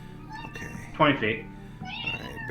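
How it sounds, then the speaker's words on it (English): A house cat lets out one clear, drawn-out meow in the middle of a tabletop game session, with people speaking around it. "That is my cat."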